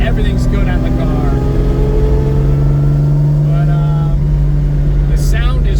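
A Lamborghini Miura SV engine drones loud and steady from inside the car, with rising tonal harmonics as it pulls through the revs on a road drive.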